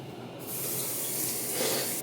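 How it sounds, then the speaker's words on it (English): A sink tap turns on and water runs in a steady, full rush for about a second and a half, close by and without any talk, then cuts back slightly. "I'm gonna have to get water from the sink."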